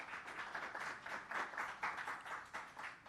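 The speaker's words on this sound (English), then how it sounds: "Another round of applause for Dr. Blake." Faint, distant clapping from an audience at a Jamaican export launch and rebranding ceremony, a soft rhythmic patter that swells and fades in loose waves.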